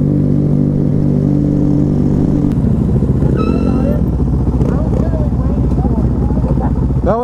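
A Suzuki DRZ dirt bike runs at a bike night, its loud steady engine drone shifting pitch partway through amid other motorcycles and crowd chatter.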